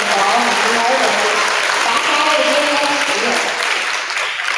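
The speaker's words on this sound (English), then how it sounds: "Let's give all these archery kids a round of applause" An audience applauds archery students at a fourth-grade school awards day, with steady, dense clapping filling the whole stretch at an even level and some talk blending in underneath.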